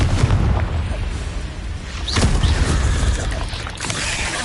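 Confringo blasting spell exploding in a Harry Potter video game, a heavy booming burst with rumbling debris, followed by a second sharp impact midway and continued low rumble.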